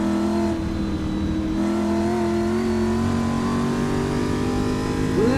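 A retro race car engine in the racing game Assetto Corsa revs loudly and steadily, pitch climbing and dropping through a gear change into second gear, with no talking over it.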